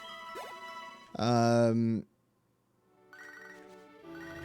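A phone rings in the Pokemon Soul Silver video game, short bright electronic chiming tones in bursts separated by a brief silence.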